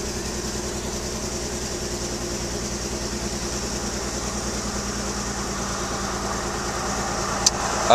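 A 1997 Toyota 4Runner 3.4L V6 engine idles with an exhaust leak, a steady, throbbing low rumble and a slightly raspy, louder exhaust note, continuous throughout with a faint click near the end.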